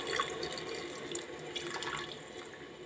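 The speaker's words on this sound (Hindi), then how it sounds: "किनारे से डालिए पानी" Water poured from the side into a pan of spiced egg biryani, a steady close splashing pour running through the whole stretch with no talking.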